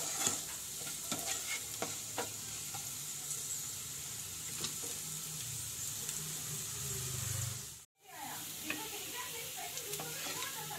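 Spice masala is sautéed in a pan with a continuous soft sizzle and scattered scraping ticks of stirring. The sound cuts out briefly for a moment near the end before resuming.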